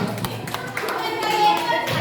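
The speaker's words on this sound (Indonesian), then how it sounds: "tepuk tangan kepada semua, tepuk tangan" A small group of teachers and participants applauds after a classroom practice session, with clustered sharp hand claps close by that come and go over about two seconds, with faint voices mixed in.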